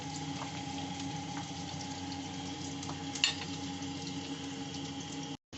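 Steady oil sizzling from potatoes frying, a constant crackling hiss with a faint low hum and one brief clink partway through.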